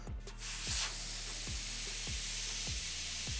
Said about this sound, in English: Then I'll release all the air by pulling out the valve stem core.